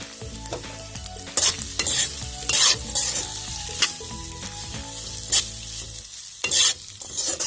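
Noodles and Kashmiri chili fry and sizzle steadily in a pan while a utensil stirs and scrapes in repeated bursts, close and clear, with no talking.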